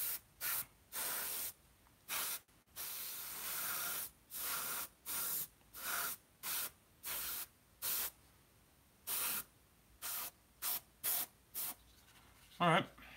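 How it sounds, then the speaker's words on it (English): Hairspray sprayed from an aerosol can onto a scale model to prepare it for paint chipping, in repeated short hissing bursts of varying length separated by quiet gaps, close and clear. "if you don't have the chipping fluid, you can just use hairspray"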